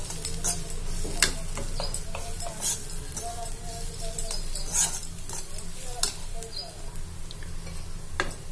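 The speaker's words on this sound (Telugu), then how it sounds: "చూడండి నేను ఉప్పు కారం పసుపు అయితే వేసేసుకొని మంచిగా కలుపుకుంటున్నా." Beetroot and moong dal curry is stirred in a pan with salt, chili powder and turmeric, giving steady scraping and clinking of a spoon against metal over a soft sizzle, up close and continuous.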